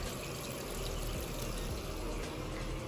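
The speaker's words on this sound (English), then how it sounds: "with this machine I have to kind of pull up, and then the water's gonna start to pour" Water gushes steadily into a top-load washing machine set to a heavy cycle, a loud, continuous pouring and filling rush heard close up with no talking.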